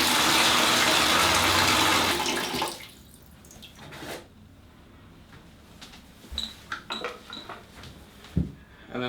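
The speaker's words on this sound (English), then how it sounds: "I'm going to fill up the bucket again with cold water" Cold water gushes loudly into a bucket for rinsing hand-washed laundry, pouring steadily for about two and a half seconds before it cuts off. Scattered knocks and clatters from handling the bucket follow, with no talking.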